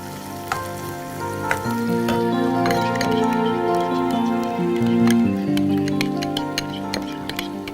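Onions frying while being stirred in a pan, a loud steady sizzle punctuated by spoon taps and crackling pops, with a tonal hum running underneath and no speech.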